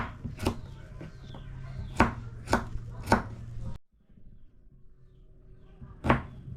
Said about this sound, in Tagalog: Islice tayo ng bawang